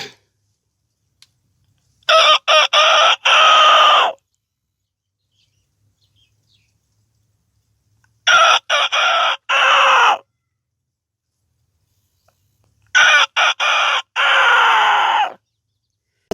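A man imitates a domestic rooster crowing, three separate crows spaced several seconds apart, each opening with short choppy notes and ending in a long drawn-out call, loud and close with silence between.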